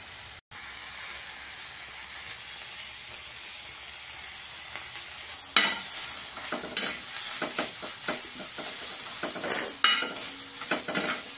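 A curd (dahi) mixture for Banarasi dahi mirchi is stirred in a pan with a soft background sizzle. Scraping, swishing strokes grow more frequent in the second half.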